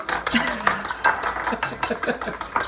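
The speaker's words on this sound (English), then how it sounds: "we're gonna beat some eggs" Eggs being beaten in a bowl with a fork or whisk, producing a quick series of light clinking strokes against the bowl, close and moderately loud, with faint speech in the background.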